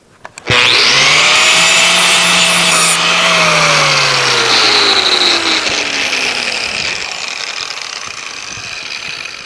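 A power grinder spins up sharply and works a steel splitting wedge to dress out a crack, giving a loud, sustained abrasive whine whose pitch sags slowly before easing off toward the end.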